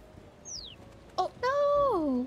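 Bird chirping in the cat video game Nya-ry, a couple of short, clear whistled chirps including a longer sliding call, fairly faint against a quiet background.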